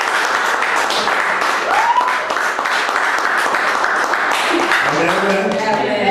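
A church congregation applauds its pastor, a broad, sustained wash of clapping from many hands filling the room, with voices calling out over it.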